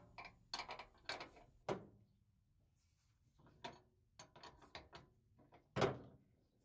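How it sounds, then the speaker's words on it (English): A ratchet with a 3/4 inch socket works a rear shock bolt loose on a Nissan Titan pickup, giving sharp metallic clicks and clanks in short, irregular bursts with quiet gaps between them. "Right behind the trim, you'll see the bolt head that our 3/4 inch socket will go on."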